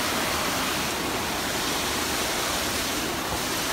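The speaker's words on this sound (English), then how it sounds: "The waterfall's in sight." A waterfall on a Na Pali Coast hike roars with a dense, steady rushing wash, loud and unbroken, and no voices are heard above it.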